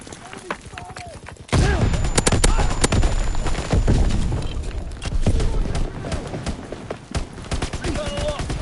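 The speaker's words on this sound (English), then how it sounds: "these dual pistols are a little too fun." Dual pistols fire in Call of Duty WW2, rapid bursts of sharp shots over dense in-game noise, with players talking throughout.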